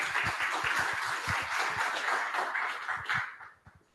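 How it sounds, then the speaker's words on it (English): An audience applauds panel speakers at a climate security and inequality discussion, a dense sustained wash of many hands clapping that thins and fades out near the end. "So give them a round of applause, please."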